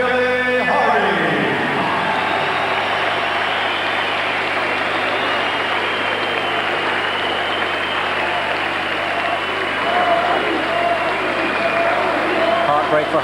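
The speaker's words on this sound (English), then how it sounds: "Ladies and gentlemen, a round of applause, please, for this young man who came here to challenge tonight." A boxing arena crowd at a Prince Naseem Hamed bout applauds challenger Billy Hardy, a dense, sustained wash of clapping and cheering that rolls on evenly, with an announcer's voice over it.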